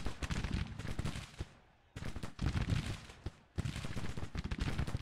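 Artillery fire pounds massed troops in the Grand Tactician Civil War video game, dense bursts of rumbling cannon fire in two long volleys separated by a brief lull, heard alone without talk.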